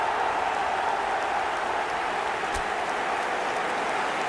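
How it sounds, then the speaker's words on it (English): After a goal in the eFootball video game, a large stadium crowd of fans applauds with steady, dense clapping and cheering that holds evenly from start to finish. "Even some of the opposing fans are clapping that"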